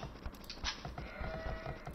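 A sheep bleats in the Age of Empires game during a match with Goths against Mayans, a faint short cry among clicking game sounds and a low background hum.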